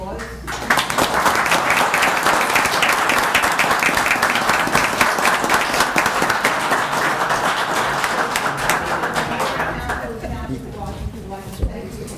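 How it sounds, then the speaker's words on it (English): Township council meeting audience gives a volunteer a sustained round of applause, dense steady clapping lasting about ten seconds before thinning out, with some voices mixed in. "we'd like to give him a round of applause"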